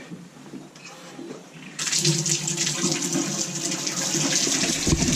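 Water gushes from a tap, starting abruptly after a quieter stretch and then pouring steadily and fairly loudly, close by.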